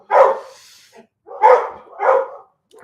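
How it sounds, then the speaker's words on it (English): A dog barks loudly and close by, three separate harsh barks spaced about a second apart with a faint trailing yip at the end, with no voices over it. "Of course, dog's gonna be loud."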